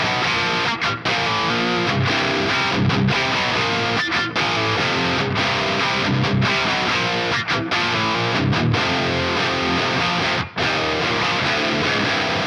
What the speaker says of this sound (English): here's what a 57 sounds like on its own